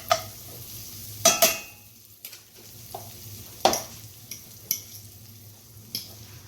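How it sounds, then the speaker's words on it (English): A spoon stirs spaghetti pie mixture in a pan, giving scattered scrapes and clinks over a faint sizzle, with several sharp, close utensil knocks against the pan. "want to stir it a little bit. I don't want it to stick."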